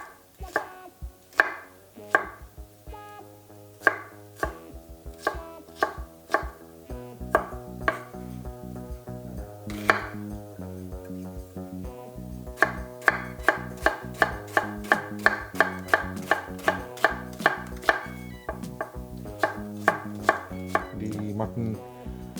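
Mutton being chopped into coarse pieces with bones for momo, a long run of hard, sharp knife strikes on a board, irregular at first and then quicker and more regular.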